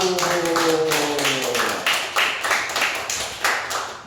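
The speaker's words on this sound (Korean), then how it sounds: "영광의 박수" A church congregation applauds after a prayer, with claps landing in a quick, steady rhythm after a brief sustained tone fades out at the start.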